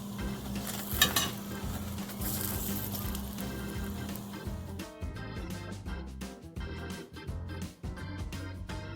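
Pancakes frying in a pan with a steady soft sizzle, then scraping and clinking of a spatula against the pan as they are flipped, close and fairly quiet.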